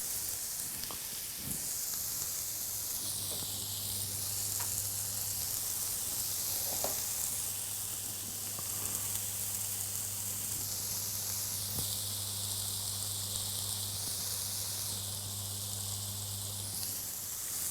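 A steady sizzle from a cooking plate in Black Desert Online runs continuously throughout, with a constant low hum under it and a few faint clicks.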